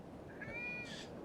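Cat meowing in the video game Foolish Mortals, a single faint rising-then-falling meow that lasts about half a second and ends in a brief breathy trail.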